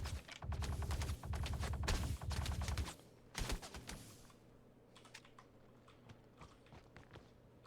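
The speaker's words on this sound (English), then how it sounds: "Who's shooting at me?" Incoming gunfire hits the player in a space video game, dense rattling automatic bursts up close that break off abruptly and give way to sparse, fainter cracks and clicks.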